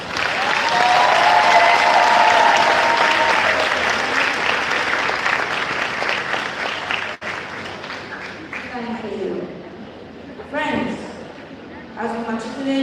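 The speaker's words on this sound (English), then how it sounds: "Round of applause." A crowd applauds teachers at a primary and infant school graduation, loud sustained clapping that gradually thins out. Some talk comes through beneath the clapping.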